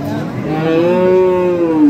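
A dairy cow moos once at a cattle market, loud and near, a long low call that swells and then slides down in pitch.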